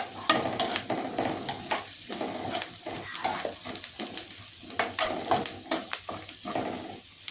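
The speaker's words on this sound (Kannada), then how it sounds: "1/4 ಸ್ಪೂನ್ನಷ್ಟು ಇಂಗನ್ನು ಸೇರಿಸಿ ಇದನ್ನು ಸಹ ಫ್ರೈ ಮಾಡ್ತಾ ಇದ್ದೀನಿ" Asafoetida frying in hot oil for a tempering, a close, steady sizzle with repeated stirring scrapes and light utensil clicks throughout, no voices.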